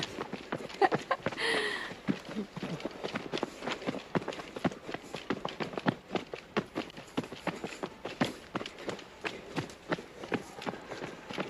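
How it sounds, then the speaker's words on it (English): A camera operator runs heavily down a trail during the 2024 Asia Pacific Trail Running Championships 80 km long trail in Ulju, a fast, steady patter of thudding footsteps close to the microphone throughout. "The sound you're hearing is the heavy footsteps of the cameraman."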